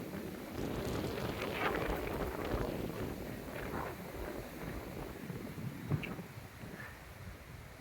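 Strong wind gusting across an open farm where trees sway, a steady broadband rush with low rumbling buffeting throughout and no speech.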